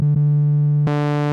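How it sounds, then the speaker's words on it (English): A Korg MS-10 analog synthesizer holds a steady, loud electronic tone with a brief dip near the start, then turns abruptly brighter and buzzier for the final half-second. "you got your sine wave"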